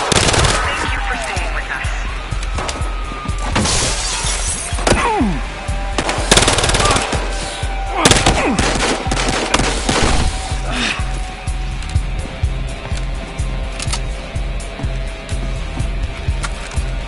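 Heavy gunfire in the video game Battlefield Hardline, set in a hotel shootout, with repeated automatic bursts and single shots, loud and close throughout, mixed with shouting voices and impacts.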